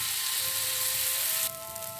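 Chocolate wheat-flour serabi batter is poured into a hot, lightly oiled pan over low heat and hisses in a loud, steady sizzle that drops slightly in level near the end.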